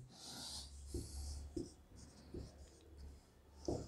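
Chalk or marker strokes on a classroom board, several short scratchy bursts in an uneven rhythm, close and fairly quiet with light room noise between them.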